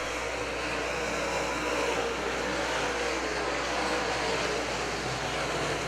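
NASCAR open-wheel modified race cars lapping Cedar Lake Speedway produce a constant, distant engine drone across the track, blending into a steady roar without distinct pass-bys.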